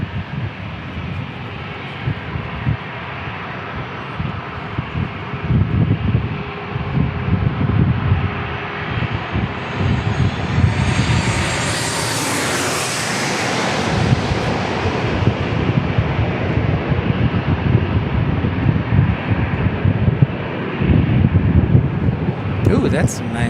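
An Alaska Airlines jet arriving from JFK at San Diego International Airport roars steadily overhead, with a rising whoosh peaking midway as it passes, under wind buffeting on the microphone.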